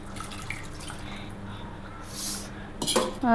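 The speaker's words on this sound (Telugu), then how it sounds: "దానిలో నీళ్ళు పోసి ఇది తిప్పి దాన్ని పోసేయాలి" Water poured into a pan while cooking gongura chicken, followed by a brief clink of a spoon stirring against metal, faint and close with no talk.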